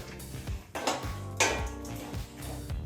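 A metal spoon scrapes and clinks in a pan as puliyogare mixture is stirred with added salt, a few irregular knocks and scrapes at moderate volume with no talking.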